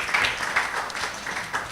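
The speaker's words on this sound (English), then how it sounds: "So let's give our panelists just a round of applause." A seated audience at a panel talk gives a brief round of applause, a short burst of scattered clapping heard from some distance in a room.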